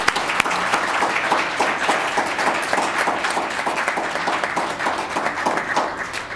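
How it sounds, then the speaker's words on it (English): A crowd at a Los Gatos town council meeting applauds, a dense, steady clapping that holds fairly loud throughout and tapers slightly at the end. "Let's give her a round of applause."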